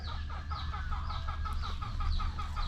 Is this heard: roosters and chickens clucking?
yes